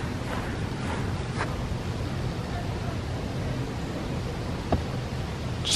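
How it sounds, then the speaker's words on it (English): Wind blows steadily outdoors, buffeting the microphone with a constant low roar and rumble, while a person speaks briefly in the background. "Just wait until the wind dies down a little bit."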